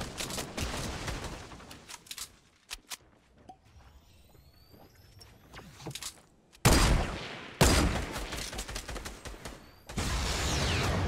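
Gunfire in Fortnite, loud bursts of rapid automatic fire broken by quieter stretches of single shots, footsteps and mechanical clicks, then long dense volleys near the end.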